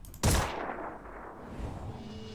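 Two sharp gunshots fired in the tactical video game Phoenix Point, a loud close crack followed by a decaying rumble and a fainter second report.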